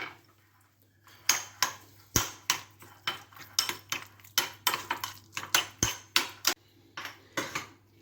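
A metal spoon repeatedly tapping and scraping a plate or bowl while mixing dressing into baked potato pulp, a run of sharp close clinks at an uneven rhythm against a quiet background.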